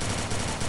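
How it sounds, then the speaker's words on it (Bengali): Rapid automatic gunfire in a blindfolded 1v1 custom match of an online shooter game, a dense, loud burst of shots lasting under a second. "মাথার উপর দিয়ে যাইতেছে গুলি গুলা"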